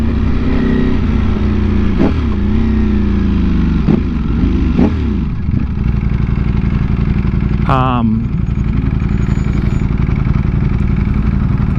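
A 2020 Ducati Panigale V4 revs hard on an onboard ride, its exhaust rising and falling through several rapid throttle blips over steady wind rush, with one sharp, high-pitched rev burst near the end.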